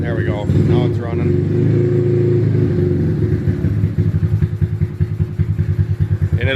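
Honda Grom motorcycle engine with a big cam kit, just started cold, running loud and close with a choppy, uneven pulsing idle; someone talks over the start.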